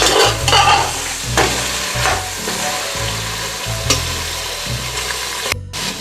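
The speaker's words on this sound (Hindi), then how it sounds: "मटन को हम बहुत अच्छी तरह हम फ्राई करेंगे इसमें।" Half a kilo of mutton fries in a pan with onion, a loud close sizzle with steady, rhythmic scraping stirs throughout and no talking.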